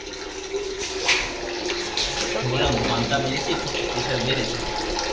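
Tap water pours out under pressure in a steady, rushing stream, close and fairly loud, with a voice briefly heard over it.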